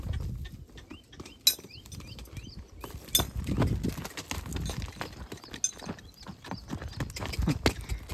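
Horse hooves clip-clop in short bursts under a noisy outdoor scene, with a few sharp louder knocks standing out and no clear talk.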